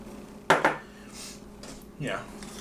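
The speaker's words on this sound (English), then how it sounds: "Mix it around before you put any of the wet stuff in." Flour, garlic powder, salt and sugar are mixed together in a bowl, heard as two clattering knocks and scrapes of a utensil against the dish, with faint sound in between.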